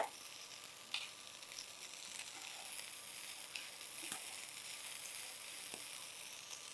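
Idli bhel sizzles in a pan on high flame, a continuous close hiss of frying broken by occasional light clicks and scrapes of stirring.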